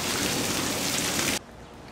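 Heavy rain during an Arizona thunderstorm hisses loudly and steadily for over a second, then drops suddenly to a much quieter wash of rainfall.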